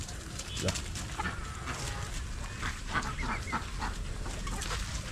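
Native chickens, including Kappiri and short-legged breeds, clucking and calling in a home yard, scattered short chirps and clucks over a steady background noise, with faint voices at times.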